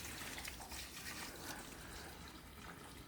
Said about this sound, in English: I think the most important thing for these plants is for me to water them.